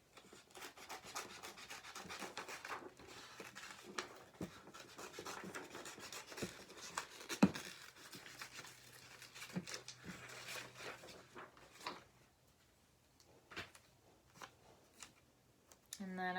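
Scissors snip and rustle through paper while cutting out a drawn circle for a Mother's Day handprint flower craft, a close irregular series of soft crisp cuts and paper scrapes, pausing near the end.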